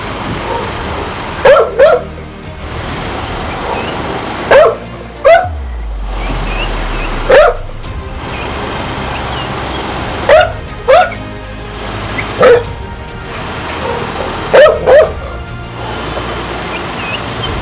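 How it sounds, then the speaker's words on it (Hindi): Two dogs bark back and forth in short bursts of one or two barks, with pauses between, one nearer and loud, the other answering. "रोनी को सिर्फ टाइगर की आवाज़ भी आ जाती थी तो रोनी भौंकने लगता था और उधर से टाइगर भौंकने लगता था"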